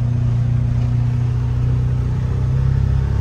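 Engine of a 2023 Can-Am Defender Limited side-by-side cruising at about 3,800 RPM, a steady droning hum with a strong low tone and constant rumble, close and unbroken, no voices.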